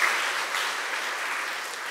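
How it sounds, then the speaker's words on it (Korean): A congregation at a Sunday church service applauds together during an award presentation, a steady, even wash of clapping from many hands throughout, moderately loud and without talk. "우리 박수 한번 해주시기 바랍니다"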